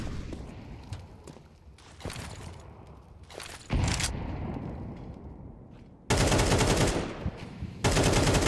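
Gunfire from pistols in a competitive esports match of a team shooter game, heard as loud bursts of repeated shots with sharp onsets, some louder sustained volleys near the end, with no talk over them.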